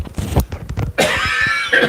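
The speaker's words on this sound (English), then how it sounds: "Move my mic when I know I'm going to cough." A single close cough from a man, a sharp burst followed by a short rough exhale, loud and alone.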